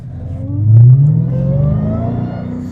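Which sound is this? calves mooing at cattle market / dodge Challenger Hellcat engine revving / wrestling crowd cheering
dodge Challenger Hellcat engine revving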